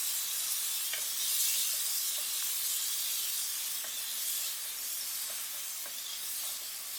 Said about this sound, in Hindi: अदरक लहसुन को 30 से 35 सेकंड सॉटे करेंगे